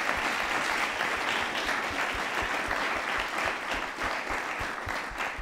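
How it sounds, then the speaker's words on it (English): A late-night television studio audience applauds in a dense, steady wash of clapping that holds at full level for the whole stretch, with no voices over it. "I want everyone in the audience to applaud if you have been to Toads."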